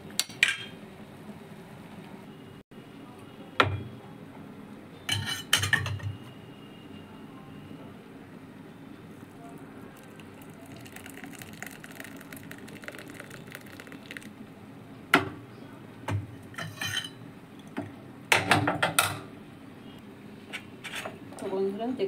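Freshly brewed milk tea with jaggery and ginger is strained in a home kitchen, with scattered close metallic clinks and clatters of a strainer and pots between quieter stretches, and a little voice in the background.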